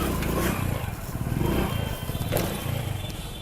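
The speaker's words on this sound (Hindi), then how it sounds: "आपने साउंड भी सुनी होगी बाइक के आरपीएम की" Hero Splendor motorcycle engine revving during a wheelie practice, a low pulsing thrum that rises and falls in uneven surges with some clattering, heard close.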